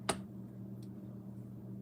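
A new, loud clicker gives one crisp click near the start, then a fainter second click, over a low steady hum.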